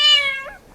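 A pet cat gives a single short, clear meow close by, rising then falling, with no other sound around it.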